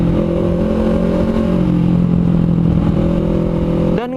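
Honda CMX500 Rebel motorcycle riding along a road, its engine droning steadily and loud with a constant hum and a slight rise in pitch, cutting off abruptly near the end.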